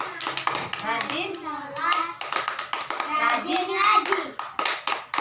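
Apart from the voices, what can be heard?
children clapping in a Tepuk anak soleh clapping chant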